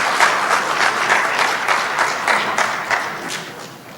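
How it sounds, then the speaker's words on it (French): Audience applause at a university year-end ceremony for foreign students in Béjaïa, a burst of loud rhythmic clapping that rises in pulses and gradually tapers off. "Nous vous prions de l'applaudir"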